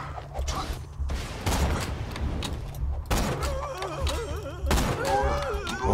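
Grenade explosion and gunfire in the shooter Borderlands 2: rapid crackling shots and thumping impacts give way to a loud burst around three seconds, with warbling electronic game effects and a voice briefly underneath.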